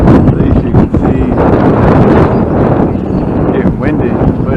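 Steady wind gusting across an outdoor campground by a covered swimming pool at Toms Cove, Chincoteague, a loud, broadband rush buffeting the microphone throughout, with a voice heard talking underneath.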